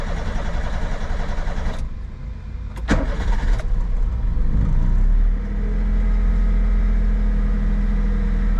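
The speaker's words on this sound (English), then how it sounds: "So let's start the car up." A Mitsubishi Bravo kei van engine cranks briefly after a fuel filter change, then catches and settles into a steady idle, heard close with a low rumble.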